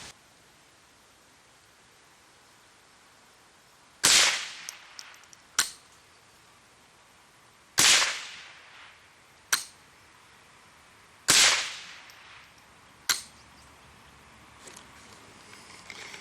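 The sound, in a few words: Ranger .22 click-clack gun firing shots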